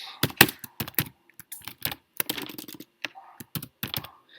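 Rapid clicking keystrokes on a computer keyboard while Arduino code is typed, irregular bursts of close, crisp taps with brief pauses between words, with no voice over them.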